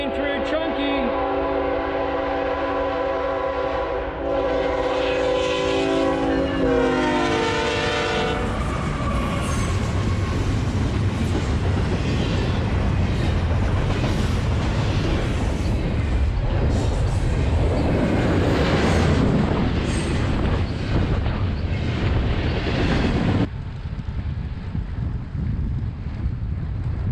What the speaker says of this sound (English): Comes the train through Hickory.